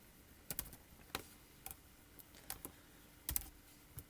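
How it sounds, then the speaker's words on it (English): Someone types on a computer keyboard to enter athlete names and results in timing software, producing sparse, crisp key clicks in small bursts, close and fairly quiet. "Now I can just start typing in a name"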